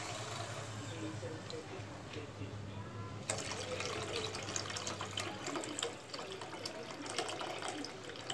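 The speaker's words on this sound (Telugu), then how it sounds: "నేను కూడా ఇంకొంచెం నీళ్ళు వేస్తాను" Water pours from a vessel into a simmering Bangda mackerel fish curry with tamarind, a steady rushing splash starting midway and continuing close and fairly loud.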